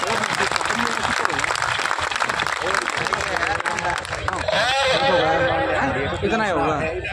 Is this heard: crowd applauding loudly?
yes